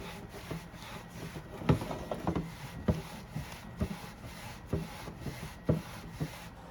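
Rubbing and wiping on the rear wheel rim of a Kawasaki ZX6R motorcycle, a soft scrubbing texture with repeated small knocks and scrapes at an uneven rhythm, close and moderately quiet, no talking.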